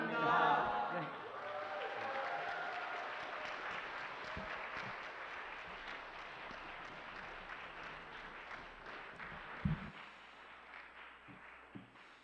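A church congregation applauds during a pastor's retirement service, with a burst of dense clapping that slowly thins and trails off into scattered claps and room noise.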